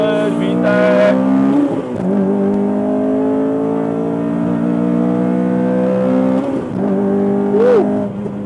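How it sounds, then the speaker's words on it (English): A modified Honda Civic FD2R with a 2.0 naturally aspirated engine revs hard in first gear up toward an 8000 RPM VTEC red line, a loud rising engine howl close by, briefly dipping at a shift. "let's just give them a first gear VTEC. 8000 VTEC."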